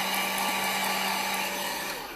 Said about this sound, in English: the dryer is on